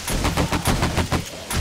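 Rapid gunfire in the zombie survival game 7 Days to Die during an open-air feral horde fight, a loud, close string of about seven evenly spaced shots in quick succession.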